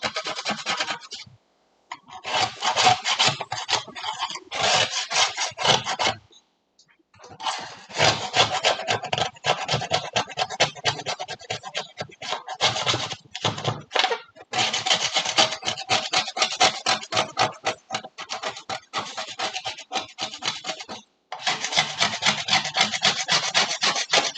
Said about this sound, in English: So now I'm scraping everything off again.